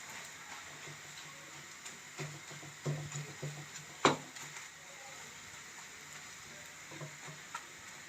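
Bread slices fry in a pan for egg halwa, a steady low sizzle with a few soft scraping and tapping touches, one sharper knock midway, no talking.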